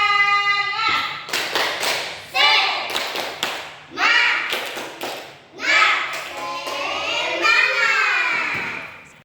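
A class of children stand and perform a rhythmic spirit clap as a classroom ice-breaker, clapping in repeated close bursts in a patterned beat while their voices chant loudly along.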